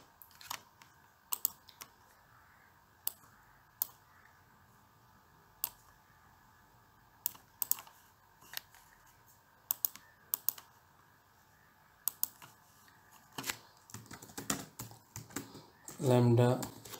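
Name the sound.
typing on a computer keyboard to enter text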